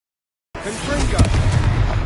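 A blasting spell explodes in the wizarding video game Hogwarts Legacy. After silence, a sudden loud burst swells into a sustained, rumbling roar with crackling debris.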